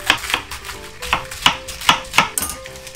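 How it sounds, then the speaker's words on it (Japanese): Cabbage is chopped with a knife on a board: about eight sharp, evenly spaced cuts close by, with light rustling between them and no voices. "じゃあ、ちょっとね、最後に付け合わせのね、キャベツ切っていきましょうね。"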